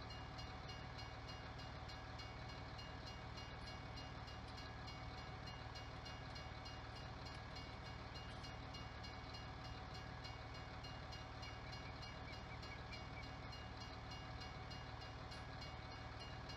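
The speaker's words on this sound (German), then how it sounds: "Da kommt gleich der Zug" A train passes in Farming Simulator 19, heard as a steady, continuous rumbling drone of rail cars that holds at constant loudness throughout, with no voices.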